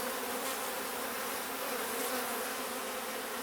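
Honeybees swarm-buzzing inside an opened hive frame, with agitated drones among calmer workers; a dense, steady, close drone of many wings that holds level throughout with no voices.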